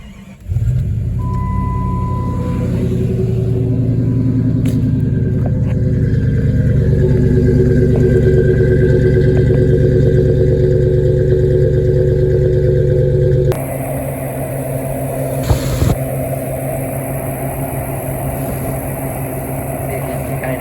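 A car engine fitted with an RPM Air Gap intake manifold runs steadily at a loud, close idle with a deep rumble, then the tone shifts abruptly to a different, rougher idle.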